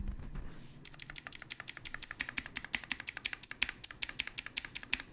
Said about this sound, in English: I'm gonna show you how the spacebar sounds.